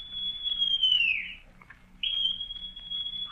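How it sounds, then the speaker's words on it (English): Long John Silver blowing a whistle: two shrill, sustained blasts separated by a short gap, sharp and clear over a faint low background. "Then Silver brought out a whistle."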